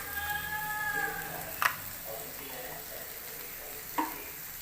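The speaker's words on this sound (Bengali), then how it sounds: "তারপরে নেড়ে চেড়ে ভালো লাল করে ভেজে নেব।" Soybean chunks stir-frying with turmeric and salt, a soft steady sizzle with two distinct spatula clanks against the pan, and a brief tonal voice-like sound early on.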